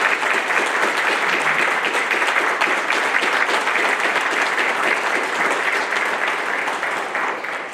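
Family and friends in the audience at a Navy Nuclear Field "A" School graduation ceremony applaud the new third-class petty officers, a loud, sustained roar of many hands that holds steady and eases off slightly at the end.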